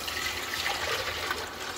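Water is poured from a tap into a cooking pot holding upturned glass jars, a steady close splashing rush lasting throughout.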